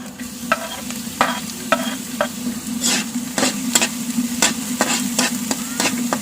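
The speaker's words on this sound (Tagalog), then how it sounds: "Yan, lagay na natin ang bawang." Garlic sautéing in a pan for a ginisang miswa with patola and sardines, a steady close sizzle broken by repeated sharp scrapes and clacks of a utensil stirring.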